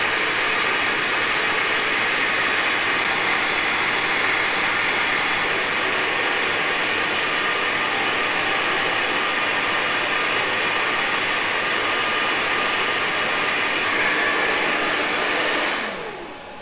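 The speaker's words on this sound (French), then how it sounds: "Donc là, vous avez les ventilos pour le refroidir, forcément." Cooling fans of an EcoFlow Delta 2 portable power station under a 2200-watt load make a steady, loud broadband whoosh that holds evenly for about sixteen seconds and then cuts off abruptly as they stop.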